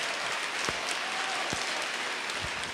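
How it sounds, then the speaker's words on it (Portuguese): Congregation applauding during a Portuguese-language church sermon, a steady dense wash of clapping that holds evenly through the moment, with a few lower thumps scattered beneath. "Nossa, eu vou aplaudir, lindo isso, lindo, lindo."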